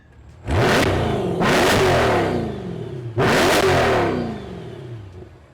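A 2024 Chevrolet Corvette E-Ray engine in an aggressive drive setting revs hard three times, each loud rising roar sweeping up and then falling away, with no voices over it.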